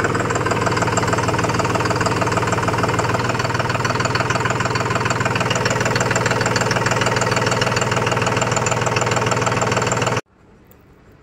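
A VST Zetor 4511 tractor's engine runs loud and close in a steady knocking idle, then cuts off abruptly near the end.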